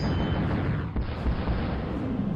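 Game artillery barrage from a HIMARS rocket attack in a generals tournament match: a dense, continuous rumble of booming detonations with a sharp crack near the middle, loud and sustained with no voices.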